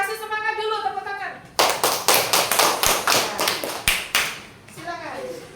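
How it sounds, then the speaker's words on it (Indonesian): Elementary school students clap in unison to cheer during a coding lesson in class. About ten loud, evenly spaced claps sound in a steady rhythm, and children's voices are heard before and after the clapping. "Kasih semangat dulu, tepuk tangan"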